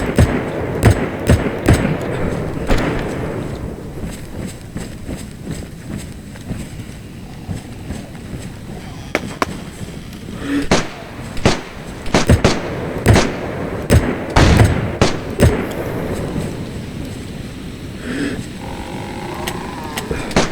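Gunshots ring out from nearby houses as sharp, scattered cracks and pops at irregular intervals against steady outdoor background noise, some close and loud, others fainter, while people talk.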